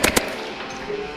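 Airsoft gun fired during a game in an abandoned mall: two quick, sharp cracks close by, then a short fading tail with light background noise.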